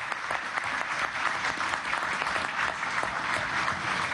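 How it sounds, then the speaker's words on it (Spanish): An audience at a Venezuelan presidential visit to the Orinoco oil belt applauds for a full stretch of dense, steady clapping, close and loud, with crisp individual claps standing out and no talk over it. "Un aplauso para España,"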